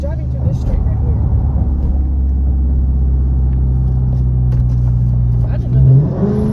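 Straight-piped Dodge Charger RT V8 rumbles loud and close from inside the car, holding a deep steady idle, then a short rev swells near the end, with voices talking over the exhaust.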